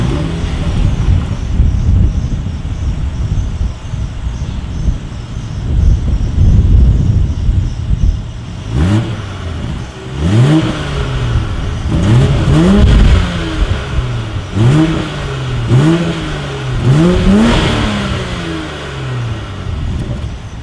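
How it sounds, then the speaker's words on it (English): A 2020 BMW X5's dual exhaust idles quietly, then lets out a series of about six sharp revs, each rising and falling back, loud and close. "As always, here is that exhaust clip."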